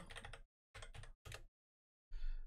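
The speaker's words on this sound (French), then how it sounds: "si je tape Twitch Tracker... Je tape Twitch Tracker" Typing on a computer keyboard in short bursts of quick clicking keystrokes, close and fairly quiet, with brief silent pauses between the runs.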